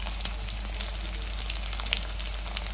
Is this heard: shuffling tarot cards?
no